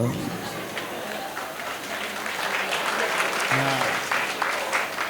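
Audience clapping at a temple fair gathering after a humorous speech ends, a steady crowd applause that continues across the whole stretch at moderate distance, with a brief voice murmuring underneath.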